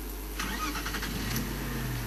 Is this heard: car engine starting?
yes